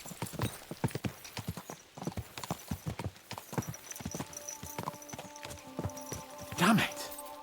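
Horse hooves clip-clop in a quick, uneven rhythm in the video game Kingdom Come: Deliverance II, close and clear, ending in a short whinny near the end.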